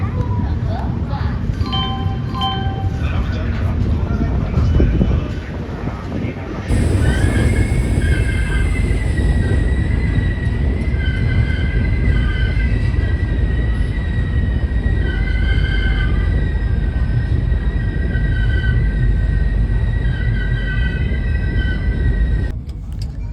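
Platform ambience as an express train pulls in: a loud, steady rumble of rolling wheels with drawn-out metallic squeals, while a public-address announcement plays over it.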